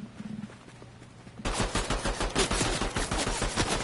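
Sniper and rapid gunfire in a no-build duo match of an online shooter game, a quiet few tones then a sudden dense burst of sharp repeated shots, loud and continuous to the end.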